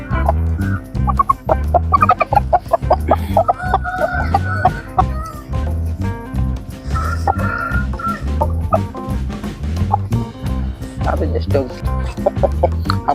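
Fighting roosters, including the Abras breed, cluck and gobble repeatedly amid a busy crowd of fowl, loud and close, with people talking throughout.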